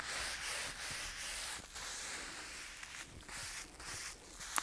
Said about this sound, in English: I'm just going over it with this because it's kind of my preferred method of smoothing out is using plastic wrap.